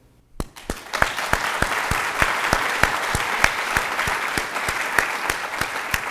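An audience at a campus reading applauds, with clear, rhythmic individual claps standing out close by over a broad crowd wash that starts abruptly and holds steady.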